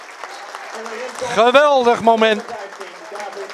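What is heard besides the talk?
football crowd giving player a standing ovation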